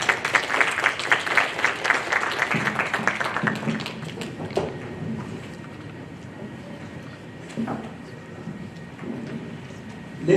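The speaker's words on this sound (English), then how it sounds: "Let's give them another round of applause" Applause from a conference audience at a business and human rights launch event, brisk clapping for the first few seconds that thins out and fades, followed by quieter room noise and a few isolated claps.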